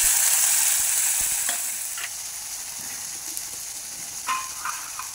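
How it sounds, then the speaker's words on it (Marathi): Chopped onion, green chili and coriander sauté in a ladleful of oil for a spiced eggplant dish, giving a steady bright sizzle that fades slightly, with a few faint clicks of stirring. "तेल एक पळी टाकली, त्याच्यात हे कांदा, हिरवी मिरची, कोथिंबीर हे सगळं परतून घ्यायचं।"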